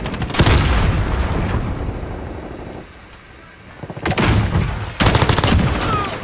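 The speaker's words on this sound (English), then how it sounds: "Shooting at my own guy." Gunfire in the Modern Warfare video game: heavy, loud automatic bursts and booming shots close by, pausing briefly in the middle before two more intense volleys resume.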